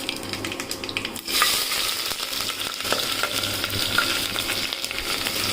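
Chopped onion fries in oil in a pressure cooker, a loud, continuous close sizzle with occasional scraping and clinking of a spoon as it is stirred.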